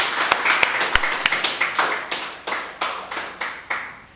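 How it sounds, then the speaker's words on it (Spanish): Church congregation clapping in worship, a few sharp individual claps at first, then settling into a steady rhythmic beat of hands, close and fairly loud with no talking. "déle un aplauso fuerte al Dios vivo"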